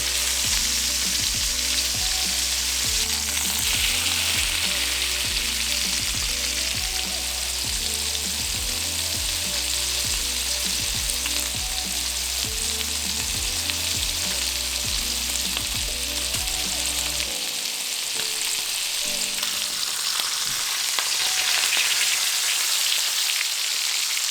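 A stuffed pork loin fries in hot oil in a pan on medium heat, a loud, steady crackling sizzle that continues alone throughout, with music playing underneath for most of it.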